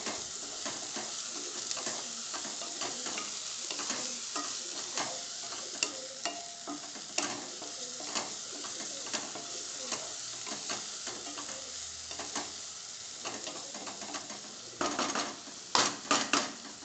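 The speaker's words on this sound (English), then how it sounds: "So to this I am going to add on the chopped tomatoes. I will mix it well." Chopped tomatoes stirred into an onion gravy for red kidney bean rajma in a pan, a steady sizzle with frequent scraping and clinking of a spoon against the pan, growing busier toward the end; no one speaks.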